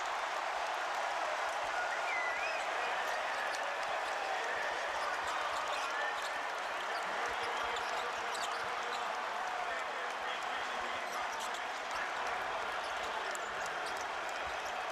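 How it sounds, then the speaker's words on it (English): A basketball arena crowd roars steadily through Pitt vs. Syracuse men's college play. The noise is a constant wash of cheering, with a commentator talking over it. "Crowd comes to life."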